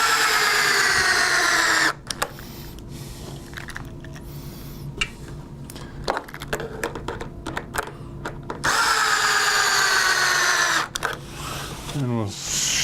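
A power drill drives the remaining screws while replacing a front gear platform, with a steady whirring run near the start and another later, separated by clicks and handling noises with a brief rising whine at the end.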